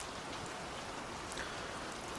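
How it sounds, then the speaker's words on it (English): Rain falls at night in a steady, soft hiss with scattered faint drop patters, an even and fairly quiet wash of sound with no voices. "Listen to the rain."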